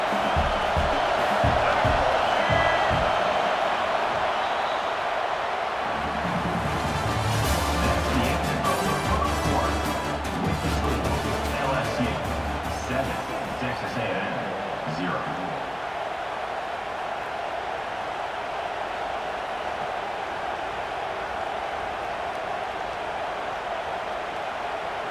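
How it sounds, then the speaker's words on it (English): Roaring stadium crowd in EA Sports College Football 26 during an Aggies game, a sustained loud wash of cheering that swells with a burst of whoops and crashing noise midway before settling into steady crowd roar. "This crowd, full throat, splitting the eardrums"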